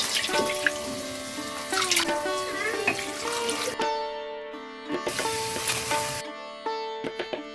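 Tap water runs into a kitchen sink as hands are washed before handling meat, a continuous close splashing that cuts off briefly and then resumes.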